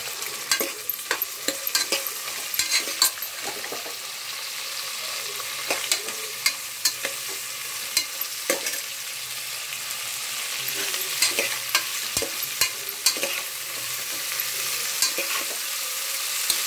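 Okra curry with tomato is stirred in a pan, a spoon repeatedly scraping and clacking against the metal over a constant close sizzle, no voices.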